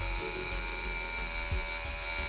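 A Uneo Maxx cordless hammer drill with a pneumatic hammer mechanism bores a dowel hole of up to 10 mm into hard concrete, producing a steady, dense mechanical whine and rapid rattling hammering throughout, close and continuous.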